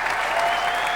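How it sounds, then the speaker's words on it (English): Audience applause at a 1997 IJA juggling festival performance, a dense, steady burst of clapping from a crowd filling the whole second. "Would you give a rousing round of applause to Jay Gilligan?"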